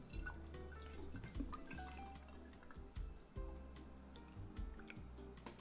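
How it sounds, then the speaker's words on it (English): Pumpkin spice simple syrup dripping as it is strained, a faint, steady trickle of drips with no voices. "now it's time to strain our simple syrup"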